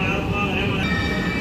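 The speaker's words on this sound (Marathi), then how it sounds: "सोलापूर रेल्वे जंक्शन आलेलं आहे" A train standing at Solapur railway junction gives off a steady rumbling, hissing drone with a continuous high whine, close and unbroken throughout.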